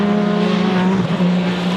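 Race cars roar past at close range at the 24 Hours of Le Mans, with a loud sustained engine drone that dips and shifts in pitch midway as the cars go by.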